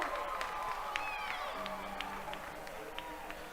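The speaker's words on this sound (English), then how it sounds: "Maybe not quite the size of crowd that we had last night, but every bit as loud, that is for sure." A crowd at a late-inning minor league baseball playoff game between the High Point Rockers and Gastonia Honey Hunters cheers with a steady, distant roar and scattered claps.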